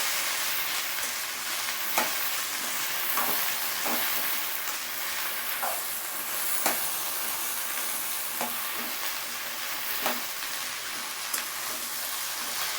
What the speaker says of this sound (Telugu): ఈ బెండకాయలు దీంట్లో వేసేద్దాం. ఇవి బాగా ఫ్రై అవ్వాలి.